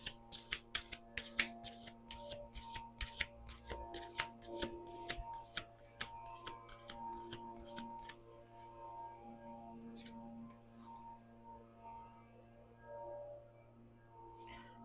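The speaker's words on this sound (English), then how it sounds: "Last shuffle." Playing cards being shuffled by hand, a quick series of soft, rhythmic flicks and snaps for several seconds, then quiet handling noises.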